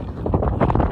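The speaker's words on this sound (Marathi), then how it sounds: "वारा खूप आहे हे तुम्ही बघू शकता" Strong wind buffets across the open Masai plateau near Panhala, a brief close rumbling gust roaring against the microphone.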